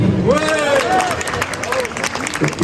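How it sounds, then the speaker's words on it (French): Audience applause fills a hall at an overseas-territories gastronomy fair honouring a chef, a steady broadband clatter of many hands with a voice speaking over it throughout. "On applaudit."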